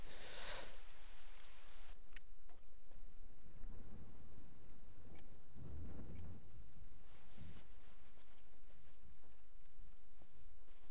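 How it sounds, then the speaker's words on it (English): Steady rain falling outside on a rainy night in Persona 4, a continuous even hiss with soft patter, heard alone without voices and holding at a moderate, constant level throughout. "Hear it raining outside."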